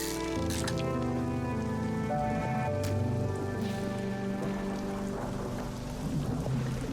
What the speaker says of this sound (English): I guess that's just the thunder rumbling